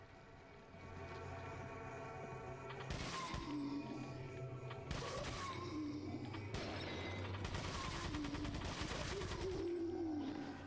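Several sharp gunshots from Resident Evil 4 on the Wii, spaced a couple of seconds apart over a steady game ambience with mechanical clatter, fairly quiet overall.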